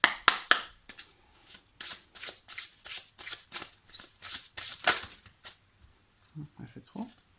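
Tarot cards are shuffled for a card draw in a rapid run of crisp riffling slaps, close and steady, ending with a few softer hand sounds.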